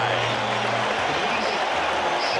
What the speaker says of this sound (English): the crowd is on its feet at Shea at the end of 5